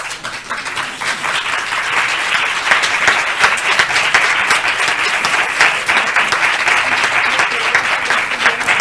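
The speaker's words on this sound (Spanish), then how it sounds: "Este aplauso es para vosotros" Audience applause at a COVID-19 crisis communication conference, loud, dense clapping from a crowd that swells early and holds steady throughout.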